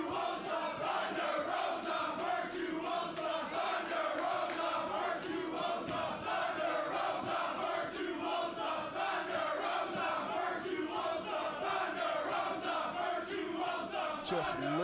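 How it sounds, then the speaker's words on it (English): A wrestling arena crowd at TNA Slammiversary 2021 chants in a steady, rhythmic pattern, a loud, dense mass of voices with regular beats continuing throughout. "Just listen to this crowd. It is split and divided right now."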